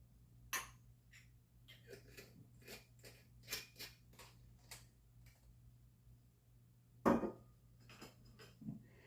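A martini is stirred over ice cubes, producing a quiet series of irregular clinks and ticks from cubes knocking against the glass, with a sharper clatter near the end over a low background hum.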